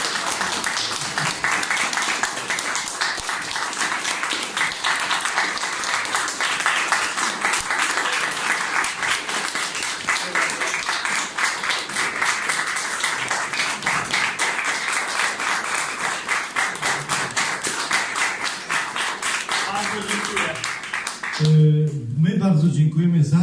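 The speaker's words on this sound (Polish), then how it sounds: "te brawa dla Pana Tadeusza są zasłużone i jeszcze raz o nie poproszę" Sustained audience applause for Tadeusz Płużański at a remembrance lecture event, dense steady clapping filling the room for over twenty seconds before fading out into a few spoken words at the end.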